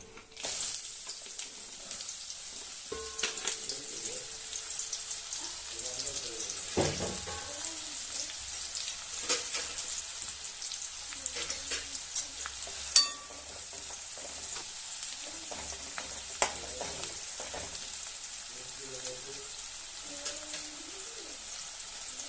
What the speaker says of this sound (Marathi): कांदा चांगला भाजून घेऊया.